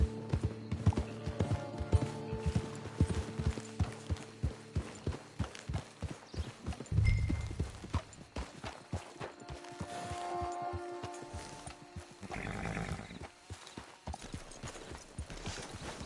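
Steady clip-clop of horse hooves walking at an even rhythm in a video game, close and clear, with a brief snort partway through.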